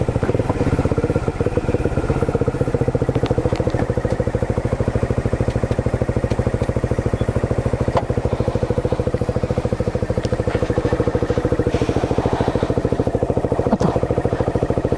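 A Rusi motorcycle engine runs steadily for the whole stretch, a loud, close idle with a rapid, even pulse and some light clatter, with no voices.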